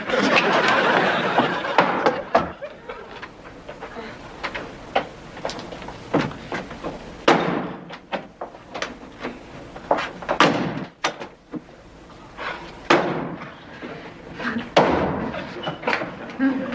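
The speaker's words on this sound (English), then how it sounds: "Will you please stop slamming the doors?" Doors slammed in a sitcom household, a series of sharp thuds and bangs scattered irregularly through the scene, mixed with people speaking and a laughing studio audience.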